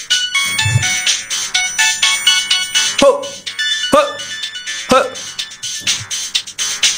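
A mobile phone ringtone plays for an incoming call, a bright repeating melody running throughout, fairly loud and close, with a voice speaking over it.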